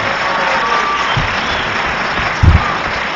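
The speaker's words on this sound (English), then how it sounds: "As 10 people clap." Audience applause from a small group at a panel event with the host, a steady wash of clapping throughout, moderately loud, with a couple of louder low thumps near the end.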